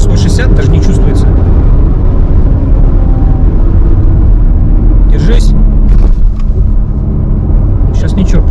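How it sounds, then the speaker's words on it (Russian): Porsche Cayenne engine at high speed, around 160, heard from inside as a steady low rumble and road roar throughout, with a few brief higher clicks and bumps. "Ну да, слышно было движок"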